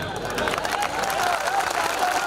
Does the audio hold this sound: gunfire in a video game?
no